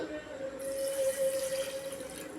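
A cup of water pours into a pan of sugar on the stove, a steady close trickle lasting a couple of seconds over a faint tonal hum.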